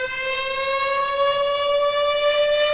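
Air raid siren sound effect, a loud steady wail holding one pitch throughout with rich overtones and no talking.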